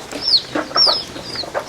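Chickens in a yard cluck and chirp close by, with high peeping calls from newborn chicks and several overlapping clucks in a busy, continuous rhythm.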